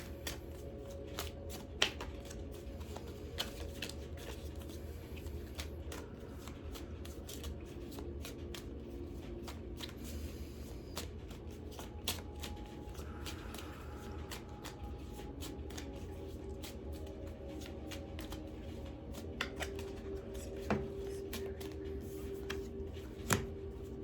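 Oracle cards being shuffled by hand, a continuous soft riffling and flicking of card stock up close, with scattered light taps and a faint background hum, no talking.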